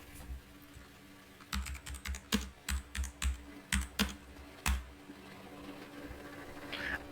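Keyword typed on a computer keyboard: a burst of about a dozen crisp, evenly spaced keystrokes, close and clear, then quiet.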